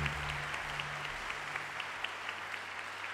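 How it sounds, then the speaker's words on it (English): An audience applauds the organisers of a university three-minute thesis event, a sustained, even round of clapping that carries on throughout with a few sharper individual claps standing out, and no one speaking. "I actually think they deserve quite the round of applause."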